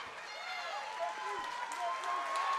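Arena crowd cheering and applauding at a Colosseum Combat 51 MMA bout, a steady dense roar of voices with scattered shouts and whistles, sustained and loud throughout.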